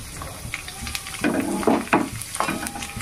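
A whole bulb of chopped garlic fries in mustard oil in a wok with a steady close sizzle, broken by louder bursts of stirring and scraping partway through.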